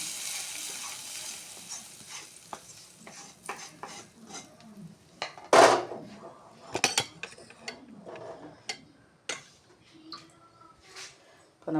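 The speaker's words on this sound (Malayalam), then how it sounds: "കറിയിലേക്ക് താളിക്കുക." Hot tempering poured into prawn curry in a pan, giving a sharp sizzle burst, then clinks and scrapes of a spoon stirring against the pan close by, with faint talk in the background.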